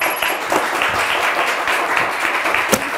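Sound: studio audience applause on a quiz show

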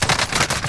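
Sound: gunfire in Call of Duty Modern Warfare Warzone video game

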